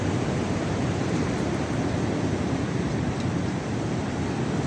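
Extreme wind roars steadily at a tent campsite, a continuous, loud, broadband rush buffeting the microphone without letup and with no voices.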